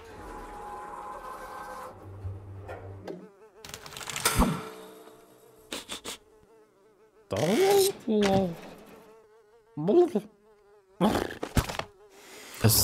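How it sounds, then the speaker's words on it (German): A fly buzzes toward fish oil dropped in the point-and-click game The Inner World, heard as a recurring close, wavering insect drone among short bursts of other game sound effects, with no talking over it. "dann fliegt die Fliege dahin."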